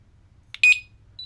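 A Technaxx TX-100 motion sensor alarm gives a couple of short, sharp electronic beeps, one strong chirp followed by a fainter one, over quiet low background noise.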